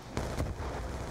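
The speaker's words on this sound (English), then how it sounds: "That's a nade." A grenade goes off in the shooter game Black Ops 2: a short, punchy blast with a second burst right behind it, loud and close, over a low, rumbling game background.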